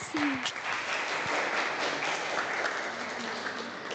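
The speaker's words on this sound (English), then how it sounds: "let's give him a round of applause" Brief, fairly faint applause from an audience at a Thanksgiving cultural event, steady clapping with a voice briefly heard at the start.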